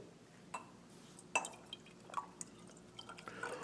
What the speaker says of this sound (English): You leave your graduated cylinder on the flat surface and you pour.